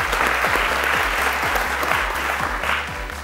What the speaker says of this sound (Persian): تشویق کنیم.